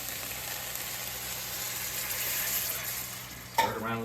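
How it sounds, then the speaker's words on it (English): Broth thickened with cornstarch is stirred into gravy in a pan as a shepherd's pie base, giving a steady, even hiss with a sudden scrape and a brighter, louder sizzle near the end. "Stir it around a little bit."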